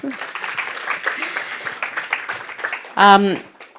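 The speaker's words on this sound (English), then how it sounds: "Can we have another round of applause?" Crowd applause rattles steadily beneath chatter and voices, then a loud shout or cheer bursts out near the end.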